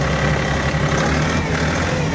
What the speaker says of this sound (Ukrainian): Трактор капець старенький, на японці